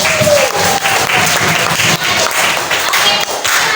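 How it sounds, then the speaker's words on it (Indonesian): Loud, close applause from a class or audience at a school coaching session, dense continuous hand clapping filling the whole stretch without a break. "Boleh kita tepuk tangan dulu hari ini."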